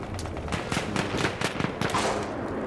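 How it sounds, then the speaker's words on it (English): Rapid gunfire in a Battlefield 1 shooter match, a quick series of close, punchy shots firing in an uneven burst over a dense battlefield din. "Someone's shooting at us through the smoke."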